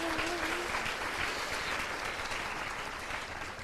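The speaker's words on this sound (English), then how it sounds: "Round of applause for your people." A crowd at an evening celebration for 2026 District Teachers of the Year in Delaware applauds steadily, a dense, even wash of clapping that stays fairly distant and soft, fading slightly toward the end.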